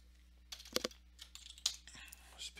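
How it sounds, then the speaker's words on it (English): Quiet clicks of typing on a computer keyboard, a few irregular key presses close by over a low steady hum. "So I'm just going to type in winding way."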